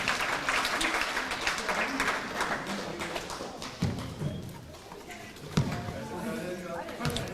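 Applause from a crowd at a wheelchair basketball game between Saint Avold and Hyères, welcoming a substitute player, a steady broadband clatter of clapping with a few hard thuds and bounces in the hall and talk over it.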